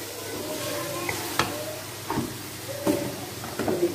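Chicken or goat liver sizzles softly in a pan with red chili, the quiet frying hiss interrupted by a few scraping stirs and clinks of a spatula.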